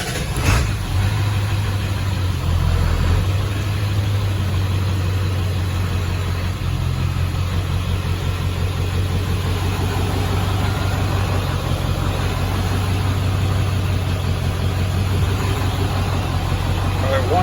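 Ford 7.3 diesel truck engine idling steadily after start-up, a constant low rumble running throughout, with someone talking over it.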